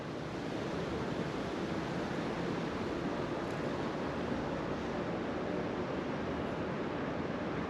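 Strong wind roars steadily against the microphone at a feeder-fishing spot on Telbyn lake in a residential district of Kyiv, a continuous broadband rush with no letup and no voices.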